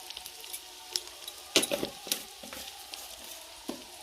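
Ground cumin and coriander powder are stirred in a hot sizzling pan. A soft continuous fry carries scattered scrapes and clinks of a spoon, one louder stroke near the middle, and no talk.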